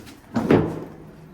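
An old wooden door of a large traditional house doorway on Pungudutivu island, Jaffna, shifted once with a short creaking, thudding movement, close and moderately loud, then settling into quiet room tone.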